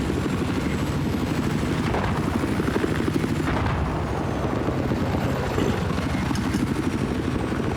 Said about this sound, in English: Fusion X, Neil, flying the helicopter.